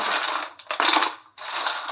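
Crispy fried snacks made from wheat flour and fresh fenugreek crunch close up in two or three bursts of loud, dry crackling with a short gap between them.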